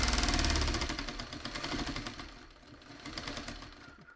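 Domestic sewing machine stitching a seam on fabric, a fast rapid mechanical chatter that runs loud at first, eases off midway and picks up again, close by with no voices.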